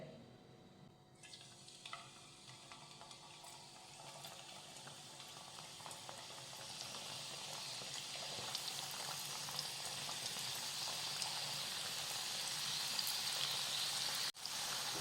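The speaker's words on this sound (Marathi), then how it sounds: "तेल व्यवस्थित गरम झालेलं आहे तर आता आपण शंकरपाळ्या तळून घेऊयात" Shankarpali, a spiced flour snack, fries in hot oil in a kadhai with a continuous bubbling sizzle that slowly grows louder, heard alone.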